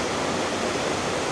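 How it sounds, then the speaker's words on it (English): Broad, steady roar of a river rushing down from a mountain into a large, deep pool near an old slate town in North Wales, continuous and close with no voices. "river coming down from the mountain, and it's quite a big pool"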